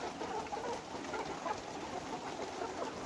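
Caged layer hens that are moulting cluck softly and continuously, a faint, diffuse murmur of many birds.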